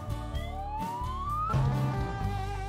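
A fire tanker truck siren in a children's cartoon rising in pitch, then wailing on in a lower tone, fairly faint with a steady background.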